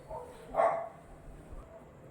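A single short bark from a dog in a residential neighbourhood, moderately close, with a faint background hum before and after.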